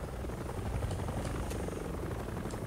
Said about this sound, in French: il y a deux hélicoptères